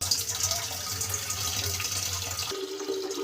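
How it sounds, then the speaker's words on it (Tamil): Water running from a tap into a pot to be heated for bathing, a steady hissing splash that cuts to a quieter, thinner trickle near the end. "சுடு தண்ணி வைக்கிறதுக்காக நம்ம தண்ணி குடிக்கிறோங்க பைப்பில்."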